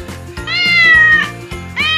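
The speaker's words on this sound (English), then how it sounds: "Jungle cat." A jungle cat meows close and loud in one long drawn-out call, with shorter calls at the start and end, over a low steady rumble.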